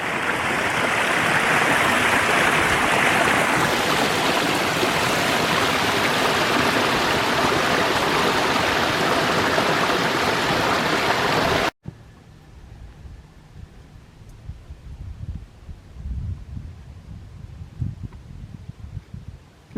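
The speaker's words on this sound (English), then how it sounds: "the cascades of the stream" A stream cascades over snow-covered rocks on a sunny winter day, giving a loud, steady rushing wash for most of the stretch before cutting off abruptly to a quiet outdoor hush.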